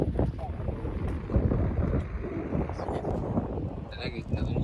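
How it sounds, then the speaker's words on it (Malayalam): Strong wind batters the microphone at a hilltop viewpoint near Bangalore, a continuous low, rough rumble with gusty swells, while a person speaks faintly under it. "വെതർ ഭയങ്കര കാറ്റാണ് കേട്ടോ ഗൈസ്"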